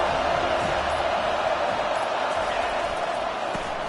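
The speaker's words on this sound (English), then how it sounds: "This crowd bringing the energy and noise early." Steady, dense roar of a large stadium crowd at a college football game between Georgia and Florida State, a continuous wash of massed voices holding loud and even throughout.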